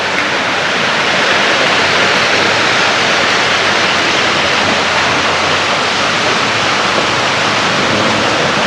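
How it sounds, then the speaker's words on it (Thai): A waterfall beside a large fuel station in Phonhong, Vientiane, Laos gives off a steady, loud, broadband rushing roar that fills the whole stretch without pause or voices. "ได้ยินเสียงน้ำตกแล้วก็แบบชื่นใจเนาะทุกคน"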